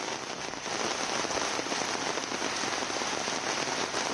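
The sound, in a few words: heavy rain in Akola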